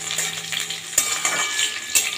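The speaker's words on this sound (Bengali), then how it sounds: "আমি কিন্তু মাছটা ভাজিনি, এটাকে হালকা ফ্রাই করে নেব" Hilsa fish lightly frying in oil for ilish pulao, a bright steady sizzle punctuated by two sharp utensil knocks against the pan.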